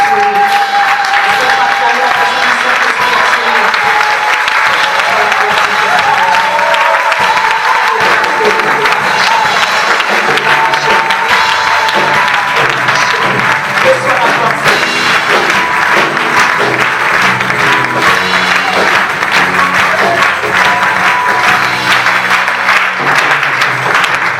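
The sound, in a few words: congregation applauding and cheering in church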